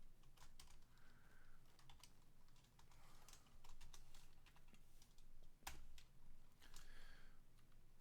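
Quiet, rapid keystrokes tap on a computer keyboard in irregular bursts, with a few louder key presses standing out and no talking.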